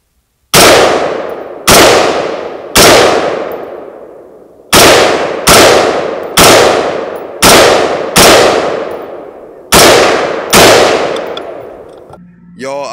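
An AR-15 rifle fired into the woods, ten loud sharp shots in an uneven string, each cracking out and ringing away in a long echoing tail, close and alone.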